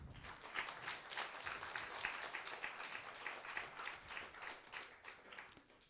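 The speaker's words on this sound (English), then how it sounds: "How about a round of applause for our instructors?" At a music showcase, an audience applauds the instructors with faint, steady clapping that is fairly distant and carries on evenly for several seconds before tapering slightly.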